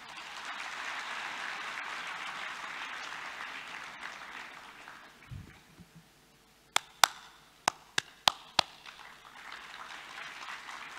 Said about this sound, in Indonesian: Jadi mari kita berikan tepuk tangan.